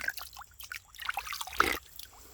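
Fresh, clean stream water in Guyana, flowing down from the Brazil side, trickles and dribbles close by in soft, irregular splashes and gurgles, fairly quiet.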